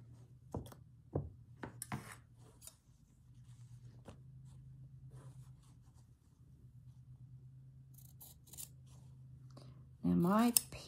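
Scissors trimming thread during hand stitching of log cabin quilt fabric strips, a few sharp close snips and handling rustles over a low steady hum, with a brief rising tone near the end.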